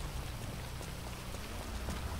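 Steady in-game rain hisses across the whole span in GTA Online, a dense, even wash of falling drops with no talk over it.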